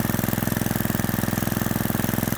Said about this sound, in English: Probably can lower that idle a little bit.